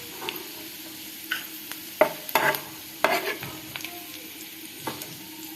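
Nuts fry in a pan for payasam, a soft continuous sizzle under several sharp scraping stirs and clinks of the spoon against the pan, close and fairly quiet, with no voices.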